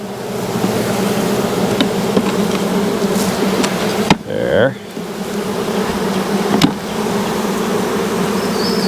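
Honeybees swarm and buzz around an open hive during a frame inspection, a loud dense drone throughout, with brief knocks and a short spoken word in the middle.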